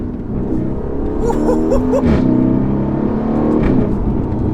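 A Mercedes-AMG A35 accelerates hard at about 80% throttle, its engine note rising and revving loudly over a constant road rumble, heard close from inside the car.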